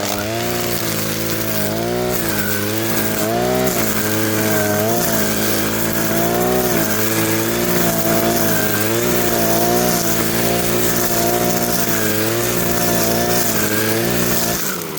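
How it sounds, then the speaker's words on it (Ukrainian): A 52cc petrol brush cutter mows grass grown almost neck high on a windy day, its two-stroke engine whining loud and close in a continuous buzz that rises and dips slightly in pitch under load. "Як косить 52 мотокоса?"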